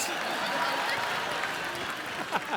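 Studio audience applause on The Kapil Sharma Show, a Hindi comedy talk show: steady, dense clapping fills the whole stretch while a voice talks over it.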